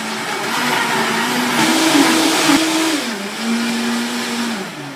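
Vitamix blender running on high and blending tortilla soup, a loud, steady motor roar with a humming pitch that rises and shifts slightly midway, heard close up and alone for several seconds.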